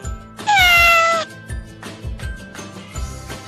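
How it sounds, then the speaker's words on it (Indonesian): A single clear, drawn-out cat meow, loud and close, over a soft rhythmic music backing. "kucing"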